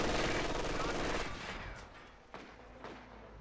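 Machine gun fire in Company of Heroes 2, a dense rattling burst up front that fades into scattered distant shots and thuds amid battle ambience.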